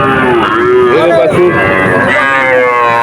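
Calves at a busy cattle market moo loudly and close by, several overlapping drawn-out calls amid crowd noise and nearby voices.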